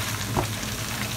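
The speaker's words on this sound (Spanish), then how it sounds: "vamos a darle a la salchicha una pasadita con una mitad de aceite de oliva" Sausage fries in olive oil in a pan, a steady close sizzle with a brief stirring scrape partway through.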